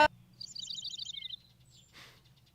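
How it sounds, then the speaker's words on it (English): Birds chirping in an anime episode: a quick run of high, bright tweets followed by a softer chirp, faint over a low background hum. "Those birds are chatting shit."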